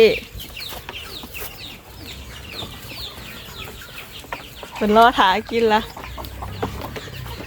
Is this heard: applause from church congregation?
no